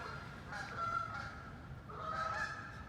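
Geese honk in two bursts of loud, nasal calls, a short pause between them, over a low background rumble.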